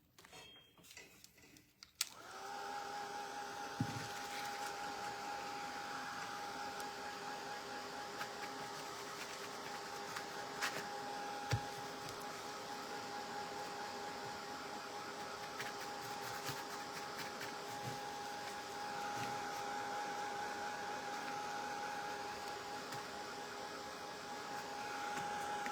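A hair dryer drying a craft project, a steady whirring blow with a constant high whine that switches on after a couple of seconds of handling noise and runs alone, fairly faint, with a few light clicks.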